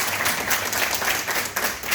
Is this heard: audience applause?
yes